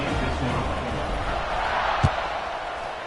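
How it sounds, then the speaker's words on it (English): Steady broad roar of a stadium crowd buzzing at a college football game between MDF3 and Kansas after a score, continuous and diffuse with a single brief thump partway through. "this crowd is buzzing after that last score"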